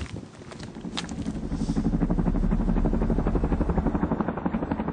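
A helicopter approaches, its rotor thudding in a fast, steady rhythm that grows louder over a low roar, close and dominant, with no voices.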